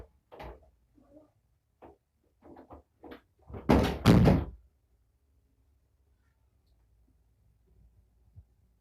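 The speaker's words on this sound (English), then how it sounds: "Now, Trillian, she has learned how to open up cabinet doors." A kitten named Trillian works at cabinet doors, making a few light taps and clicks before two loud, close bangs as a door slams, then quiet.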